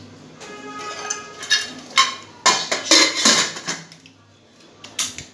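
Metal clanks and clatters as a pressure cooker lid is fitted and pressed shut over corn, several sharp knocks in a short burst, then quiet.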